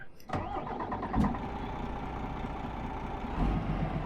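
DAF XD truck with a Paccar MX engine pulling away, a steady mid-pitched diesel drone that holds close and even throughout, with a brief louder surge near the start.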